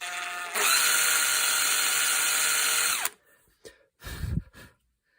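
A power drill whines loudly and steadily for a few seconds while drilling through the wooden fore-end of a gun, then stops, followed by a couple of brief knocks and handling sounds.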